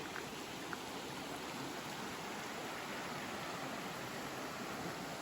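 Steady rushing of Minister Creek, a constant broadband wash of flowing water with no pauses, moderately quiet and even throughout.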